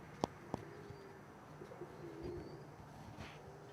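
Modern frill black blondinette pigeons coo softly in a quiet loft, giving a few faint, low, throaty calls spread across a few seconds, with a couple of sharp little taps near the start.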